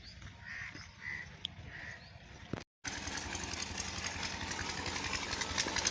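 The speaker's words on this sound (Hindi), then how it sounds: "ट्यूबवेल की आवाज़ आ रही है" A village tubewell pump engine starts after a short gap and runs in a steady, rough putter that fills the clip. Crows caw faintly beforehand against a quiet outdoor background.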